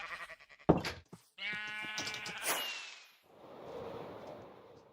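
Minecraft sheep, some multicoloured with name tags, in a crowded wool and mutton farm give several short, faint bleats one after another, with a few sharp clicks and a soft rushing hiss between them.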